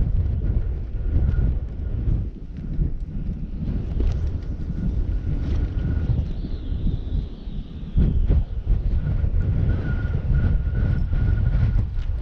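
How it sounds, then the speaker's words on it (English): Strong wind at the Delta Mendota Canal buffets the microphone with a heavy, continuous low roar that rises and falls in gusts, loud and close throughout, with no talking. "It's super windy today."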